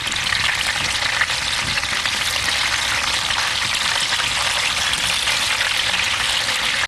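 Capon pieces, castrated chicken, frying in a pot on the fire, giving a loud, steady, dense sizzle that crackles evenly throughout with no voices.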